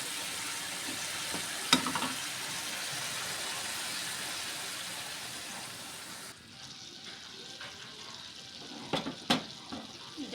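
Lentils poured into greens sizzling in a pan for a potato and pumpkin-greens dish, a steady close frying hiss with a few sharp clinks, then quieter stirring and scraping with occasional knocks.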